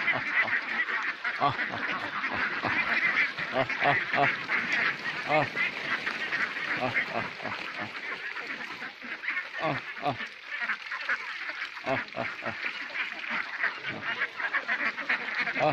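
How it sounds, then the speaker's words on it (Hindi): A flock of ducks on a duck farm quacks constantly while eating, dense overlapping calls close by with a steady busy rhythm and no voices. "सारी बत्तखें खाना खा रही है।"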